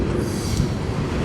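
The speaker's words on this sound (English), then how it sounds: "Yes, this is a coal train." A coal train passes close by: a brief, steady, loud rumble of rolling wheels and cars.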